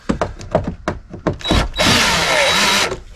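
A few close taps and thunks of handling come first, then a short burst of a power drill driving small screws into a solar power system mount.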